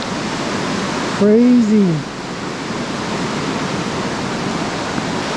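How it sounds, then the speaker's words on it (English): The roar of a waterfall at the top of India's longest falls in Meghalaya, a steady, loud broadband rush throughout, with a man's brief spoken exclamation near the start. "I believe that's the top of the waterfall."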